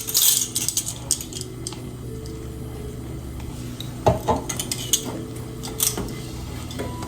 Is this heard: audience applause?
no